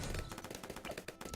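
Cannon tower in Bloons TD 6 firing a rapid run of short thumping pops over busy game noise, steady and dense for the whole stretch.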